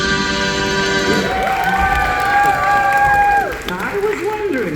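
Theater audience clapping and cheering at a stage show, a broad crowd wash mixed with a sustained sung or organ-like tone, fairly loud throughout.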